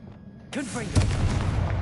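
A Confringo blasting spell explodes in Hogwarts Legacy, a sudden loud burst with a booming rumble that carries on under a voice speaking over it.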